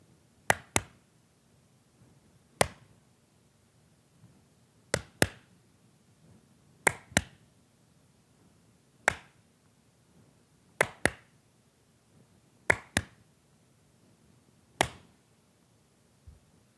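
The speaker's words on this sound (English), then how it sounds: "So let's do that clap together." A graduation audience claps together in unison, sharp crisp hand claps in pairs and singles repeated across the stretch, fairly close and distinct with quiet room between them.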